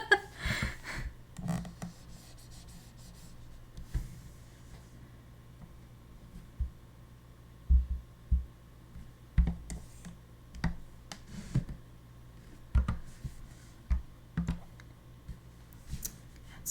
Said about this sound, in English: So the creaking and clicking sounds you hear are like literally my pen just like screaming in pain.